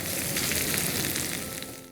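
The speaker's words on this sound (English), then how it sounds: "Till the time the carrots are cooking," Parboiled carrots cooking in a pan, a steady loud frying sizzle that holds constant and eases slightly toward the end, with no talking.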